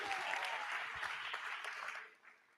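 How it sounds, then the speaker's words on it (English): Brief round of audience applause at a TechTO tech community event at Rotman, a moderate burst of many hands clapping that fades out toward the end. "Now that round of applause here."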